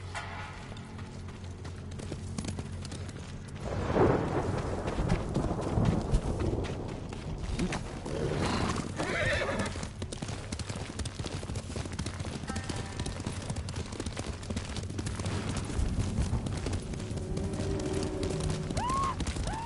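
Horses gallop in a PS4 samurai game, a steady muffled thud of hooves under a constant rumbling game soundscape, swelling louder for a few seconds midway before settling into a continuous background drone.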